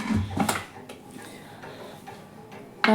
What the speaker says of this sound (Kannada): ಇದಕ್ಕೆ ನಾನು ಈಗ ಮುಚ್ಚಳ ಮುಚ್ತಾ ಇದ್ದೀನಿ.